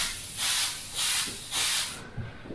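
A Creos PS 771 airbrush sprays paint in three short bursts of soft, close hissing, each about half a second long, separated by brief pauses.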